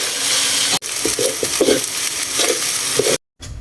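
Rice for extra-spicy kampung-style nasi goreng stir-fries in a hot wok, a loud continuous sizzle with scraping stirs and clanks of a spatula, then a brief cut to silence.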